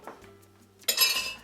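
A spoon stirs soup in a pot, giving a few soft scrapes followed by a brighter metallic clink and clatter against the side near the end, close and brief.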